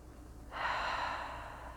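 A single deep breath drawn in slowly during a guided meditation, a soft, breathy rush that swells after a brief quiet pause and lingers faintly to the end.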